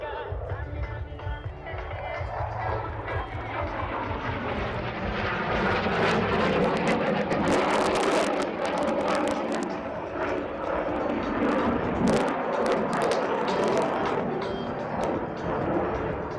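A Pakistan Air Force F-16A MLU Block 15 fighter jet roars loudly at an air show in Izmir, a sustained, swelling engine rush that builds and holds, with crowd noise beneath.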